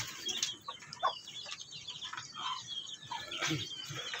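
Fighting roosters being released in a backyard cluck and squawk in short bursts, with wings flapping and feet scuffling close by in a quiet outdoor setting.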